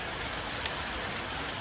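Steady rain falls on a rainy afternoon, a dense, even hiss of drops throughout with no breaks and no voices.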